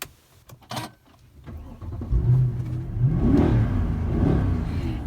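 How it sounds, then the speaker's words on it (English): A 2012 Mercedes-Benz C63 AMG coupe fires up with a brief starter crank and catch, then its engine roars into deep revving blips, loud and close. "I don't know if you can hear that rev of the engine, but it certainly is loud."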